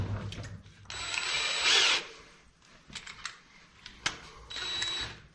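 A power drill driving a tech screw on farm equipment in a dryer pit gives short whirring bursts, close and fairly quiet, separated by clicks and knocks of handling.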